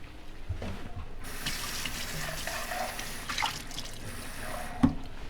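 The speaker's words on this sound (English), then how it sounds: "I'm also going to add just a little bit of water for steam purposes." Water is added to a covered pan of cooking pepper steak, giving a steady faint trickling hiss that runs for several seconds, with a soft clink near the end.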